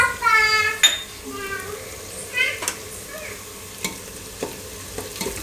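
A spoon stirs Kashmiri chili powder into pav bhaji masala inside a pressure cooker, giving scraping strokes and soft sizzling with a few sharp metal clinks; a brief tonal sound rises over the first second.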